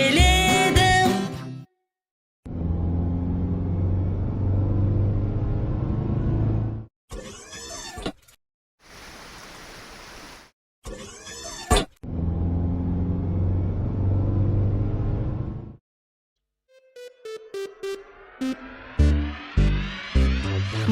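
A cartoon car's engine rumbles in several loud, steady bursts separated by short pauses, with a brief hiss in the middle and a clattering patter near the end.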